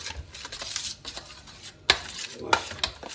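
A spoon clinks and scrapes around a bowl while chicken marinade paste is mixed, with a few sharp metallic knocks over soft stirring and a faint voice now and then.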